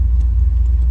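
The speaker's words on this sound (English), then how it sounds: "Let's go ahead and start this up so you can hear it run. Nice starting, good running car." A 1974 Chevrolet Corvette convertible idling, a loud, steady low rumble of the engine close by with no talk, brief and even.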